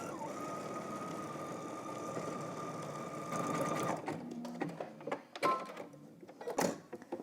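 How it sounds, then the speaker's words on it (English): A home sewing machine stitches buttonholes on pants in a steady, dense mechanical whir for about four seconds, then breaks into short, uneven bursts of stitching with brief pauses between them. "using your sewing machine and however your buttonholes are set up, go ahead and make your 4 buttonholes"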